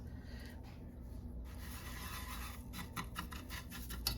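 A whisk stirring casserole ingredients, including rice, in a bowl, heard as a quiet rubbing scrape that turns into a quicker rhythmic scraping near the end.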